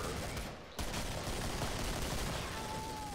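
Dense gunfire from the video game Killing Floor, fired in burst mode as a loud continuous rattle of rapid shots with a brief dip before it resumes.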